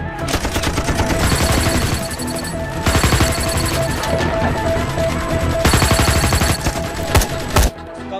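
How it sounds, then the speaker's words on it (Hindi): Bursts of rapid gunfire and automatic weapon fusillades in an action movie scene, loud and dense, with several distinct volleys, sharp single shots and brief pauses between them. "हम तो फायरिंग कर रहे हैं सर"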